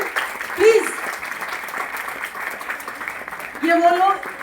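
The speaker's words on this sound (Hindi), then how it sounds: "तालियां जो है ना, उसमें कंजूसी नहीं होनी चाहिए" Applause at a Garhwali movie poster and song launch in New Delhi, moderate steady clapping from the audience running throughout, with brief voices and short cheering bursts near the start and the end.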